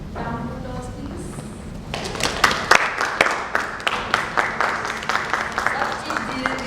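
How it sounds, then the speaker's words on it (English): Applause from an audience at an educators' leadership summit breaks out partway through, following a quieter stretch with a voice. A crowd of hands claps, with some sharp individual claps standing out near the front, and the clapping continues steadily to the end. "Round of applause, please."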